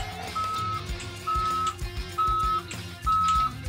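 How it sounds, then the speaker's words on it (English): Four evenly spaced electronic beeps repeat from a Mattel toy recycling truck being pushed, each paired with a mechanical rattling whir, loud and close with no voices. "Anytime you push the truck forward or backward, you'll hear sound effects."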